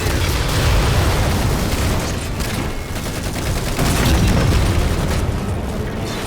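Heavy tank combat in Halo 4 fills the scene with rapid gunfire bursts and booming explosions, a loud continuous fusillade that swells and dips without let-up.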